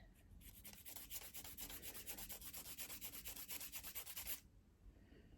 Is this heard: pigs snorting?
no